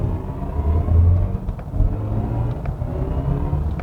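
BMW i4 M50 electric car under hard acceleration, its synthesized drive sound a low, rumbling whir that swells and surges in waves, close and steady with no talk.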